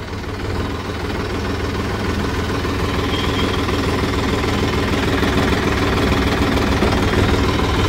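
A Mahindra Yuvo 475 DI Tech Plus 4WD 42 HP tractor engine runs steadily and loudly up close, a continuous rough diesel chugging with a knocking rhythm and no pauses.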